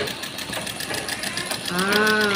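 Sewing machine stitching the edge of a round pillow piece, a rapid mechanical whirring close by that rises into a higher, louder run toward the end.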